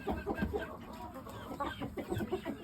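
Pure Shamo pullets clucking in a poultry pen, several soft, low clucks and murmurs repeating close by in short irregular bursts.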